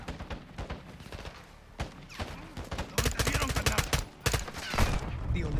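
Gunfire in a Call of Duty campaign video game, dense bursts of rapid automatic shots and scattered single reports, loud and close, with a voice talking in places.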